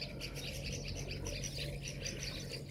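Birds chirp in the open air on an afternoon of animal watching near a shaded swimming pool, faint repeated tweets over a steady low hum of background noise, with no voices.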